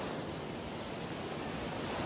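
Sea waves washing onto the sand at a Rayong beach in Thailand, a continuous close broadband surf wash with slight wind, steady and unbroken with no voices.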